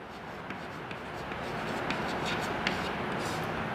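A pen scratches steadily across paper as someone writes by hand, with soft continuous strokes close up and faint room hiss beneath.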